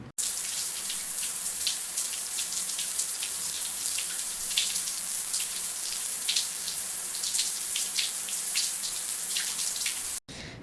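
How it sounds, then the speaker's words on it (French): Steady hiss of a running shower, with water spraying continuously and small droplet patters throughout, close by, ending abruptly near the end. "Si vous avez dit une douche, vous avez la bonne réponse."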